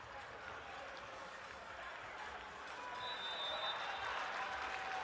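Teammates applaud a footballer during a Ghana Premier League match between Asante Kotoko and Berekum Chelsea, a soft, steady patter of clapping blended with distant crowd noise that swells slightly toward the end.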